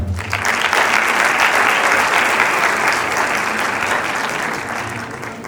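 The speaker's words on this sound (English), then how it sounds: "I would like one final round of applause for Al-Farsan" A large audience at a sixth-grade boys' graduation ceremony breaks into loud, sustained applause, dense clapping swelling at once and holding strong before tapering slightly toward the end.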